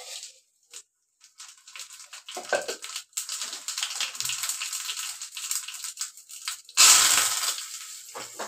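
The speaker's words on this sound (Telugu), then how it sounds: "ఇప్పుడు మిక్సీ పట్టడమే అనమాట. సో ఇది మిక్సీ పట్టేస్తాను అంత లోపల." A kitchen mixer grinder whirs through lentil chutney in bursts, harsh gritty grinding starting and stopping, then a louder final surge near the end.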